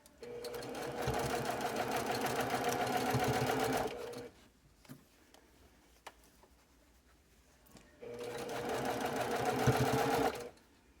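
Sewing machine running a curved seam on a quilt block, two steady bursts of fast rhythmic stitching with a quiet pause of small clicks between them, close and fairly loud.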